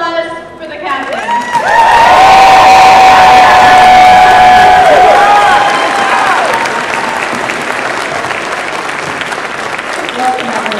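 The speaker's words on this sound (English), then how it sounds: "How about one more round of applause for the captain?" A large convention crowd at a Star Trek captains panel at Wizard World Philadelphia breaks into loud applause and cheering with whoops and a sustained whistle, swelling then settling into steady clapping, with voices mixed in.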